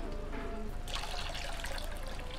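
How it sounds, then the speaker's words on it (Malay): Thin coconut milk, about a liter, pours into a pot for vegetable lodeh, a soft continuous trickling and splashing stream that grows louder partway through. "mula-mula kita perlu masukkan ialah santan cair lebih kurang 1 liter"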